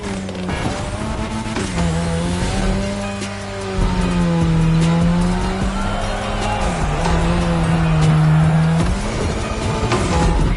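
Car drifting on a drift track in The Crew Motorfest, a loud engine droning and shifting pitch while tires squeal in long sustained wails that rise and fall through the slide.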